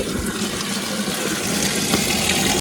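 Continuous splashing and running water throughout, steady and fairly close, like water being thrown around during washing, with no voices.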